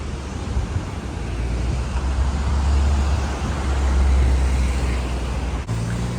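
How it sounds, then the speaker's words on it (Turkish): A small waterfall in a city centre in Treviso, a steady, dense rush of babbling water, loud and continuous throughout with no pauses. "Şehir merkezinde şırıl şırıl şelale."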